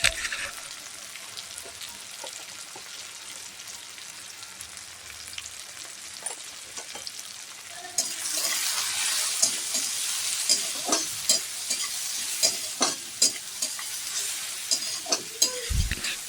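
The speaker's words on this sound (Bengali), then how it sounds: "টমেটো হাফ সেদ্ধ হয়ে গেলে পেঁয়াজ টমেটোর মধ্যে হাফ চামচ লাল লঙ্কা ও হাফ চামচ হলুদ গুঁড়ো দিয়ে ভালো করে কষিয়ে নেব।" Onion and tomato with red chilli and turmeric powder frying and being stirred in a pan for a mustard-based fish curry, a soft sizzle that grows louder halfway through, with repeated spatula scrapes and taps throughout, close and without talk.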